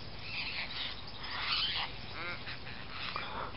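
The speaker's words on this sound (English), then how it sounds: "That's the sound of a possum bird you can hear in the background" Low, hooting possum bird calls sound faintly in the distance over a steady outdoor background hiss.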